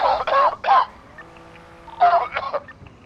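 Two short clusters of harsh coughs, a pair early and another pair after a quiet pause, fairly close and loud.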